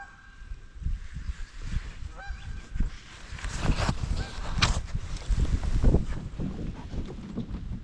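A goose honks a few times on a windy pond, the calls fairly distant and partly buried under rumbling wind noise across the microphone.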